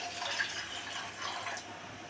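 Water pours in a steady, splashing stream into a pot of ground spice paste for rasam, continuous for the whole stretch with no voices.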